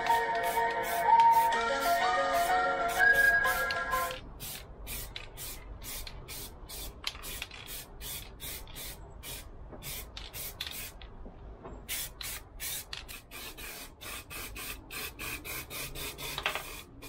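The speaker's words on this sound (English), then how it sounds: "I'm just spraying these little bits black first." Aerosol spray bursts dusting black and then grey primer onto small Star Wars model kit parts, a series of short hissing puffs with a steady rhythm, fairly close and moderately loud.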